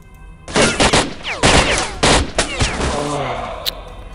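Loud bursts of gunfire in STALKER Lost Alpha: several heavy volleys with rapid automatic fire between 0.5 and 2.5 seconds, trailing into scattered shots and echoing rumble, with a sharp high ping near the end.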